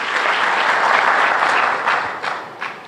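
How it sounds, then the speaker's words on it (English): An audience applauds for the Finance Minister with dense, steady clapping that fills the room, then thins out and fades toward the end. "can we have a round of applause before the Finance Minister answers the question?"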